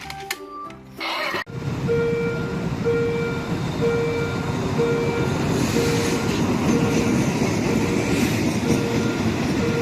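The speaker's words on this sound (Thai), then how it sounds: "รถไฟโทมัส" Toy train in the style of Thomas the Tank Engine running steadily, with continuous rolling clatter and a repeating electronic tone sounding in regular pulses. A short burst of other sound comes first.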